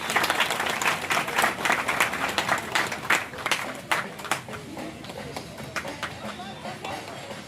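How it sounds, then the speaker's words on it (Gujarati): Audience applause at a pitru vandana gathering in Dihor village, dense sustained clapping from a crowd that stays loud, then thins to scattered claps; voices are heard among it. "જોરદાર તાળીઓથી વધારે"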